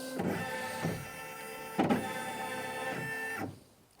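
Brother Innov-is NV2700 sewing and embroidery machine calibrating itself after being switched on: short whirring motor runs with mechanical clicks and a stop at the end, close and quiet.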